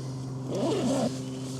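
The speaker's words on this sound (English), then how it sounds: "You can undo those zips." A zip is pulled open once on a Terra Nova Northernlite 2 tent, a short rasping run over a low steady hum.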